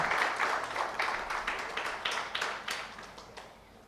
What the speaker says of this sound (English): Please give huge round of applause, ladies and gentlemen.